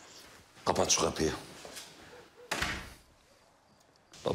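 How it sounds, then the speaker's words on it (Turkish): A house door shuts with a firm thunk, landing in short loud bursts between agitated spoken lines in a tense domestic argument. "Kapat şu kapıyı."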